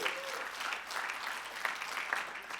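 An audience at the DLD conference applauds for its 20th anniversary, a steady, full round of clapping from a large hall, moderately distant with no talking.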